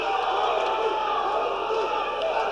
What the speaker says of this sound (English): But the crowd backing, supporting Tony Valdez